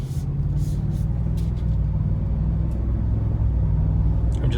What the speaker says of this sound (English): All right, let's get a little acceleration getting on the highway here.